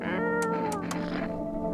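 Cat in the video game No, I'm Not a Human gives a sustained, slightly whiny meow, close and clear over a steady low background hum, with brief bright clicks above it.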